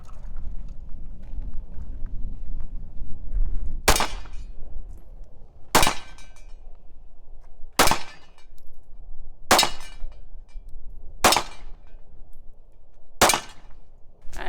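Six sharp, loud 9mm target practice rounds fired at a Jeep Wrangler JLU Rubicon differential cover, spaced about two seconds apart, each with a metallic crack, over a low outdoor rumble.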